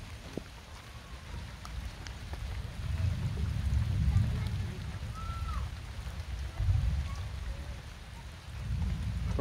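Light first rain of the season in the Konkan region falls as a soft, steady patter with low rumbling wind or distant thunder swelling and fading, fairly quiet, with no talking.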